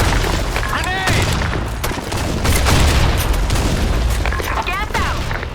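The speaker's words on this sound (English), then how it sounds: "Fire in the hole! Grenade." Muffled booms and rumbling explosions from a grenade in the Blackshot shooter game roll through a loud, dense mix of gunfire and battle noise, with players shouting over the top throughout.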